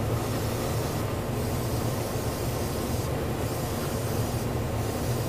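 Hot metal violet paint sprayed from a can onto a model, a continuous loud hiss broken by three short pauses, close and alone.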